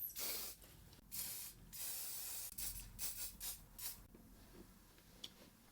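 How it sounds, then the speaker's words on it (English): Hairspray spritzed onto hair while styling it, coming as several short, close hissing bursts with brief pauses between them and a fainter final puff. "after you finish your first sections, give it a little spritz"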